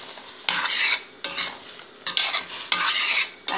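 Strawberries cooking with cinnamon sticks and star anise in syrup, with several bursts of stirring and scraping in a pan that rise and fade in a loose rhythm, close by with no talk.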